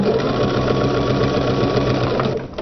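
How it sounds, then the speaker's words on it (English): Sewing machine stitching quilt block pieces, a loud steady mechanical whir with fast rhythmic needle chatter running continuously, then slowing to a stop at the end. "So now I'm going to send it into the sewing machine."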